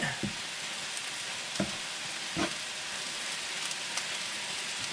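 Keto General Tso fried rice seasoned with sesame oil and spices sizzles steadily in a pan, a dense continuous hiss with a few soft stirring scrapes, close and moderately loud, with no talking.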